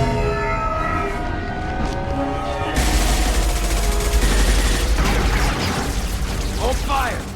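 Dense, sustained gunfire in the video game Mass Effect 2, rapid bursts that grow louder and broader midway, with game music and talk mixed in throughout.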